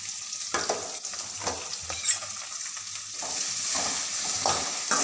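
Onion and tomatoes frying in a pan, a crackling sizzle broken by the scrape of repeated stirring, close and moderately loud, with no talking.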